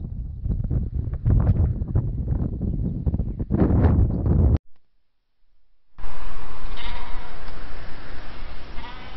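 Sheep and lambs bleat on open hillside pasture along the Pennine Way in the morning, several nearby calls over gusting wind noise, a short silent gap, then more bleats against steady wind.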